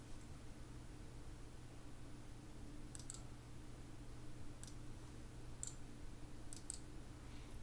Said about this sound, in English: you click on the final proposal form here